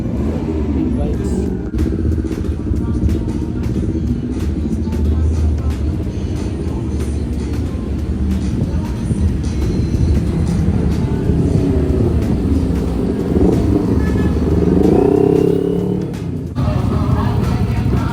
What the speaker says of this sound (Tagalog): dumarating na yung mga big bikes na mga grupo